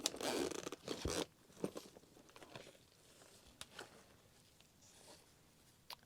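Zipper on the pouch of a Kuromi x Aprés Gel nail extension kit, its pulls shaped like a skull and a letter A, dragged open in a quick burst near the start, followed by faint handling rustles and small clicks.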